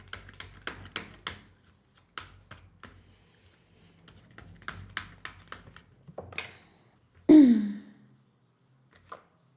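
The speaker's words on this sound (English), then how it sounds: "Let me shuffle and see what the vibe is." Tarot cards shuffled by hand in a quiet room, a rapid series of crisp papery snaps and riffles in short bursts, close and fairly soft, followed by one louder sharp swipe and a brief final tap.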